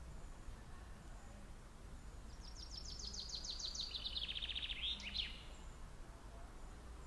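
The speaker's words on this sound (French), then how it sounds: "Je ne sais pas si vous entendez les oiseaux qui sont autour et qui chantent." Birdsong outdoors at Lacanau-Océan, France: a quick series of high, bright chirps and trills rises and then fades, heard at moderate distance over a steady low background rumble.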